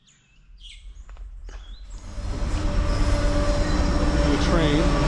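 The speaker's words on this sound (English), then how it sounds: "The train." Train passing overhead on tracks above a tunnel in the Flinders Ranges, starting with birdsong and quiet, then swelling into a loud, sustained rumble with squealing wheel tones, close by.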